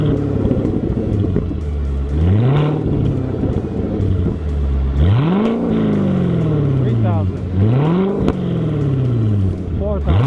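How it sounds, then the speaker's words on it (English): A Corvette C7 exhaust in sport mode with valves wide open revs repeatedly, deep loud rumbling blips rising and falling in pitch close by, with someone talking over it. "Now the car is in sport mode, which means the valves are wide open all the time."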